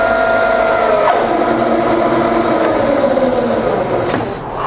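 A Bridgeport belt-drive milling machine runs in reverse, giving a loud, steady mechanical hum with a whining tone that slowly drops in pitch, close by and with no voices over it.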